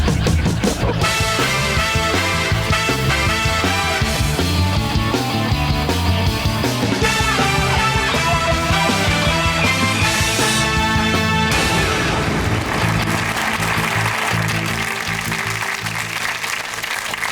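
Studio audience applause on a TV quiz show, steady and sustained throughout, mixed with loud band music playing over it.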